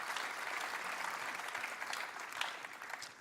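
A church congregation at a Sunday service applauds with dense, steady clapping that holds at an even level throughout and tapers slightly at the close.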